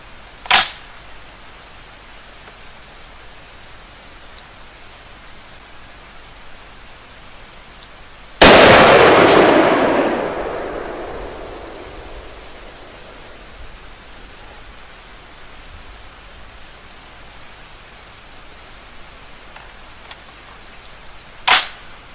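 A Browning MK3 rifle in .30-06 Springfield fires one loud shot at a range, with a long rolling echo afterward and two faint sharp cracks, probably distant shots, near the start and end.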